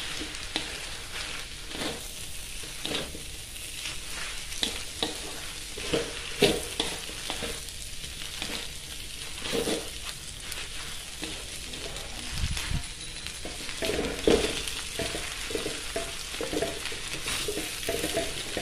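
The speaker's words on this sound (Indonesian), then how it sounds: "Masukkan bawang daun, ini kita aduk sampai tercampur rata." Mie goreng noodles with freshly added spring onions are stirred and tossed in a hot pan, giving a steady sizzle and frying hiss with a continuous rhythmic scrape of the spatula throughout, close and moderately loud, with no talking.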